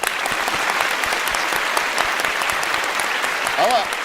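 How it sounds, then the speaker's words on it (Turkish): A studio audience at a televised word-game competition applauds, a dense, steady patter of many hands clapping at close range throughout, with a voice briefly heard over it near the end. "Tuğçe Hanım'a da bir alkış."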